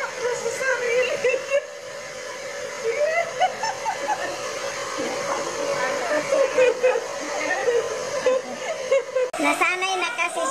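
A blower dries the thick coat of a fluffy puppy, its steady whooshing hum running throughout while people talk over it nearby.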